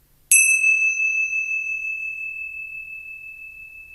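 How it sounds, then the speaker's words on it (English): A meditation bell is struck once and rings out with a clear, pure tone that decays slowly over several seconds in near silence. "We are present in the bell."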